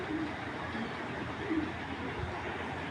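A black chila pigeon coos softly in a few low, rounded calls against a steady background hum.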